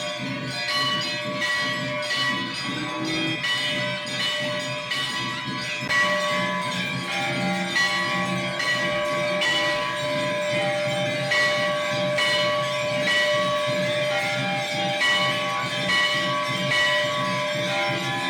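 Temple bells clang continuously during evening aarti at Binsar Mahadev temple near Ranikhet, Uttarakhand, a dense, steady ringing of many bells with a crowd of worshippers present, loud and sustained throughout with no speech.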